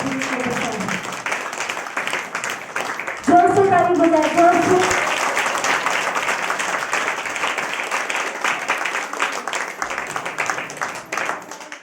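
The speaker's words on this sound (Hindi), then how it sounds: "जोरदार ताली बजाए पास्टर राघवी के लिए" Loud, sustained applause from a church congregation fills the whole stretch, dense clapping continuing without a break, briefly overlapped by a raised voice.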